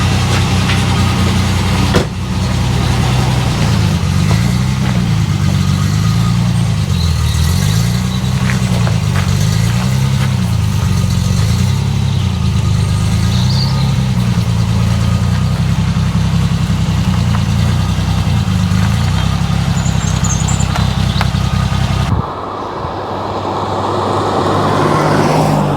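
A classic car engine idles steadily close by with a low, wavering throb as it is driven out of a garage, running continuously before cutting away near the end; no voices are heard.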